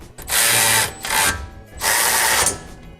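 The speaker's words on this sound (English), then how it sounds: "tighten those back up with the same ratchet he used" A ratchet clicks rapidly in two loud, close bursts with a brief shorter burst between them, a metallic mechanical buzzing with no talk, as it tightens a car's wheel lug nuts.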